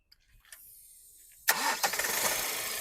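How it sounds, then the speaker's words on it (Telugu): A 2020 Kia Seltos HTX Plus diesel engine is cranked and catches on a single starter turn, jumping from quiet to a steady rough idle with a few close, loud knocks. "సింగిల్ సెల్ఫ్లో బండి స్టార్ట్ అవుతుంది సార్."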